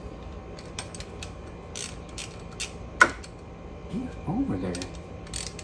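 Ratchet working on a rocker arm of a 2010 Camaro SS LS engine, with sparse clicks and a sharp metallic snap near the middle, close and fairly quiet, while a voice speaks briefly.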